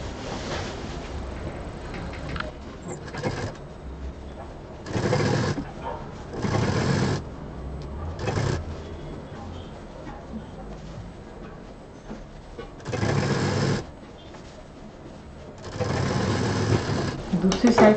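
Sewing machine stitching cloth for a large bag, running in several loud bursts of rapid mechanical whirring separated by quieter pauses, close by.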